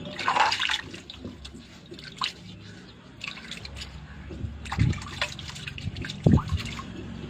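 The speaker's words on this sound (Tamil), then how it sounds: "இப்போ நான் இந்த ஆட்டாங்கல் கழுவுன தண்ணியை எடுத்துட்டு இருக்கேன்" Water used to rinse a stone wet grinder is poured and scooped out, giving splashy pours, drips and trickles with a few louder sloshes, close by and mostly unaccompanied.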